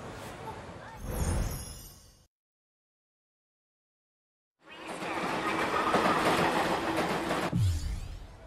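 A train rolls along a station platform in 13 Sentinels: Aegis Rim, a loud sustained rumble with rattling wheels that swells after a brief silence and then cuts off abruptly, with a short burst of sound before the gap.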